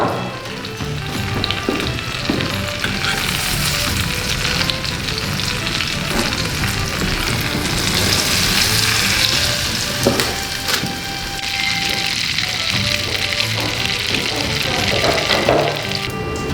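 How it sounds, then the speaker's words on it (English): Puff pastry pea pods fry in hot fat in an 18th-century kitchen, a loud, dense sizzle that runs steadily throughout with occasional crackles and light stirring. "Look at that. Sizzling."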